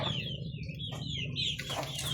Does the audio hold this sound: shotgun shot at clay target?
no